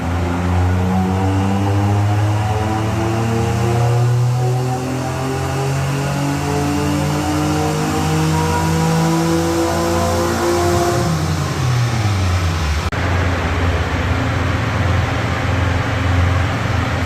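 An Acura J-series car engine revs hard during a dyno pull. The loud, droning engine note climbs steadily in pitch, holds near the top, then drops away as the run winds down. No one speaks over it.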